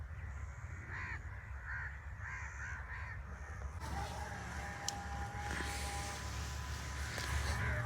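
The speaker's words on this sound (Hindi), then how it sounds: "सिर्फ परिंदों की आवाज़ें हैं और किसी चीज़ की कोई आवाज़ नहीं है" Crows cawing in a quiet village field, a few harsh calls at moderate distance over a steady outdoor hum, with a faint distant vehicle passing and no talking.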